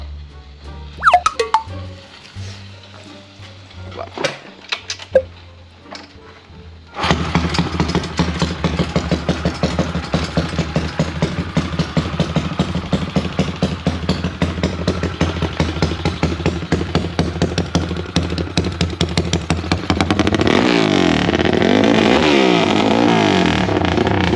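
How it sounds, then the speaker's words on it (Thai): Honda Sonic motorcycle with a 5-speed four-valve engine bored to 66 mm with a 14 mm stroke, fitted with a genuine titanium exhaust, fires up after a few clicks and then holds a steady, loud, rapid-pulsing idle, swelling into a louder rev near the end. "เดี๋ยวผมจะสตาร์ทให้ฟังนะครับตากล้อง เดี๋ยวเรามาฟังเสียงกันเลยครับ ทุกคนว่ามันจะลั่นแค่ไหนดูท่อ"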